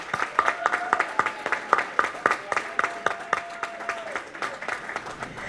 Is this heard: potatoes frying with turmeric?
no